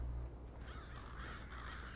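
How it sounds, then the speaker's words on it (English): Crows cawing in the fantasy video game Fable 3, a few harsh calls repeating over a steady low background hum, moderately close and without talk. "I hear the birds. The birds!"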